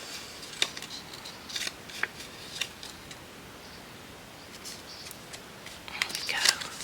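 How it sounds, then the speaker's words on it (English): Scissors snipping scrap paper for small craft pieces, a handful of short crisp cuts spaced irregularly, close and fairly quiet, with a slightly busier cluster of snips at the end. "Cut that little end bit."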